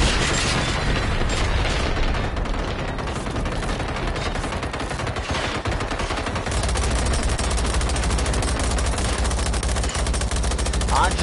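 Sustained heavy gunfire aimed at a Reaper robot in Generation Zero, rapid automatic bursts and booming impacts piling into a dense, unbroken barrage, with occasional voices beneath.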